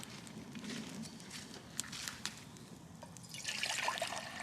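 Water pours from a container to top up cups at a wild camp, a soft, faint trickling and dribbling that runs steadily and swells slightly near the end, with no talk over it.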